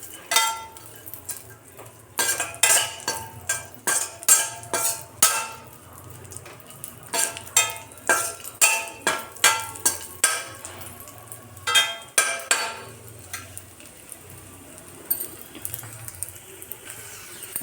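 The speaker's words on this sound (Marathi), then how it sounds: "तर आता काळे मनुके पण थोडेसे भाजून घेऊ आपण हलके." Black raisins roasting in ghee in a metal pan, with a spoon stirring and scraping in repeated sharp clanks and clinks against the pan over a soft sizzle, close and steady throughout.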